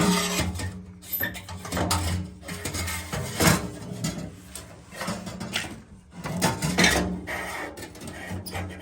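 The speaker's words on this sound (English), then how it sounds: "all I had to do was just pry it off to get the seal off and everything" A seal is pried off a Honeywell water heater burner, giving irregular scraping, rasping and clunking bursts of metal on metal, close and fairly quiet, broken by short pauses.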